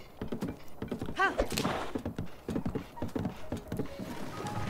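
Horse hooves clip-clop in a steady trot through Zelda: Tears of the Kingdom, near and fairly loud, with a brief whinny-like sweep partway through and a soft voice now and then underneath.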